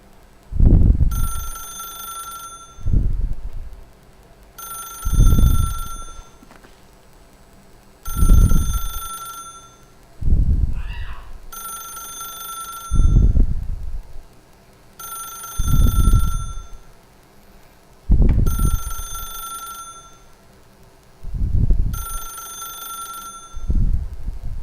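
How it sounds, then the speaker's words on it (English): A telephone rings in the game The Stanley Parable, with eight evenly spaced bursts of bright bell tones repeating steadily, each paired with a low thud, loud and close with no speech. "this might be the only phone that's ringing so long"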